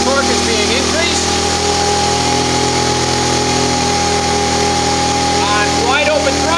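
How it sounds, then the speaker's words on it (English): A vehicle engine held at wide open throttle on a compact chassis dynamometer gives a loud, steady, unbroken mechanical drone, with a voice talking over it. "On wide open throttle, this is the maximum torque."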